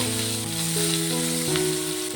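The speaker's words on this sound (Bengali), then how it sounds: "পেঁয়াজটাকে হালকা করে ভেজে নেব।" Chopped onion fries gently in the fish-frying oil, giving a close, even sizzle with light stirring, under soft background music.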